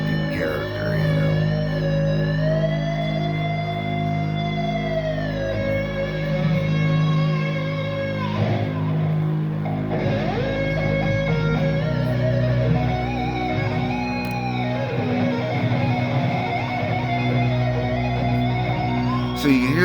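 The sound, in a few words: organ-like drone at a rock concert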